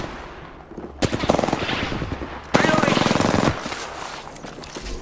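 Two loud bursts of rapid automatic gunfire in the Apex Legends shooter game, close and rattling, the second longer, with game sounds and a voice nearby.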